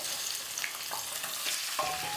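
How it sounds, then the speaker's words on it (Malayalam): Masala-coated chicken hits hot coconut oil for Kerala chicken perattu and gives off a constant loud sizzle with occasional stirring scrapes, close and without speech. "എണ്ണ നല്ലപോലെ ചൂടാകുമ്പം നമ്മൾ നേരത്തെ മസാല പുരട്ടി വെച്ച ചിക്കൻ ഇതിലേക്ക് ചേർത്ത് കൊടുക്കാം."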